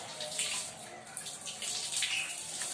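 Water gushes steadily from a loose hose while an animal cage is being cleaned, a continuous hissing splash with faint spattering throughout and no talk.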